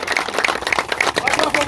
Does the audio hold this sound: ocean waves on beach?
no